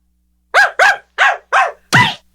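A dog barks five times in a steady, evenly spaced series, loud and close, each bark short and sharp with clean silence between, the last one deeper and heavier.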